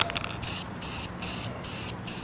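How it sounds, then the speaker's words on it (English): VHT aerosol caliper paint, a self-priming enamel, is sprayed onto a brake caliper in several close hissing bursts separated by brief pauses. "So I just want to start spraying here"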